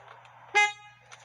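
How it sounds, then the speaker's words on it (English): A single short honk from the horn of a 2006 Subaru Forester after a steering wheel replacement, close and loud, in an otherwise quiet garage. "Horn works."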